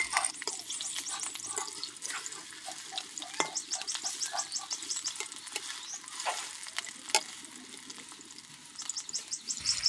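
Folui fish fritters sizzle steadily in hot oil while being gently flipped, a continuous crackling fry punctuated by soft scrapes and clicks of the utensil, with faint birdsong in the background.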